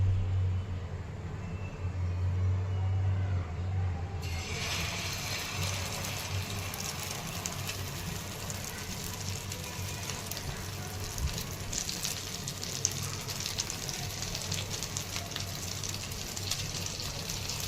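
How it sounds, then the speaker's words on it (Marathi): Onion and a cracked egg go into hot oil on a tawa and set off a steady, even sizzle that runs unbroken, moderately loud and close by, with no one speaking. "आता तेल छान गरम झालंय, त्यामध्ये हे कांदा आणि एक अंड फोडून घेतलेलं हे टाकून घेत आहे।"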